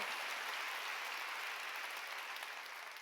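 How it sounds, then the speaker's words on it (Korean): A church congregation claps steadily and loudly throughout a worship service, a dense wash of applause with no talking, tapering slightly at the end. "박수로 하나님께 영광을 드려."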